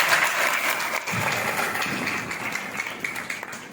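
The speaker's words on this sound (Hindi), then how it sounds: "जोरदार तालियां" Loud, dense applause from a gathered crowd at a Guru Purnima celebration, continuous clapping filling nearly four seconds without any talk.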